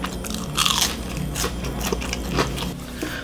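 Close, crisp crunching bites of spam fries followed by chewing, several sharp crackly crunches in a few seconds.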